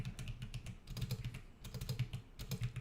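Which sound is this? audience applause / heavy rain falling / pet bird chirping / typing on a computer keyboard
typing on a computer keyboard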